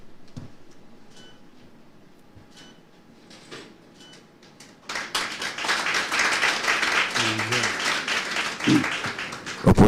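Senators in the Gabonese Senate break into a burst of loud, dense applause halfway through, after a quiet stretch of scattered clicks and rustles, with a voice briefly heard over the clapping.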